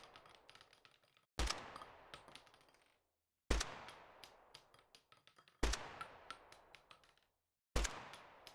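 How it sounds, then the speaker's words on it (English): Sci-fi shooter video game gunfire in four separate bursts, each a loud sharp shot followed by rapid rattling fire and the clatter of shell casings bouncing on a hard surface, with short silent gaps between bursts. "So when the on hard surface parameters introduced, you'll hear the shell casings."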